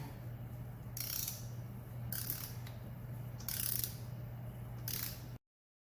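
Torque wrench ratcheting on the cylinder head bolts of a MINI Cooper N12/N16 engine, four clear bursts of mechanical clicking about a second apart over a steady low hum, with no talking.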